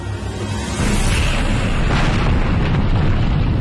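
A loud, sustained rumbling cartoon explosion that erupts suddenly after a brief lower rumble and keeps roaring to the end.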